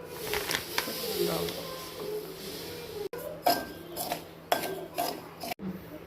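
Semolina roasting in a little ghee in a pan: metal spoon scrapes and clinks against the pan in irregular bursts over a soft sizzle, with a voice talking now and then.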